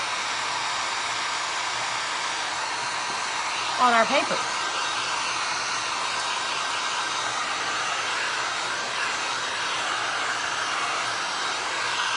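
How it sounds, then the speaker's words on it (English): A hair dryer blows steadily to dry Mod Podge glue on paper during a glass and resin craft, a continuous close whir running throughout while a voice briefly speaks over it. "we're gonna hit this with our dryer and get this glue dried really well"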